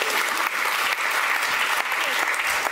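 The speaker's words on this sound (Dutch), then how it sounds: "Applaus voor Monique en Su alvast." A room full of people applauds two participants called forward at a talk on waste, steady clapping continuing throughout.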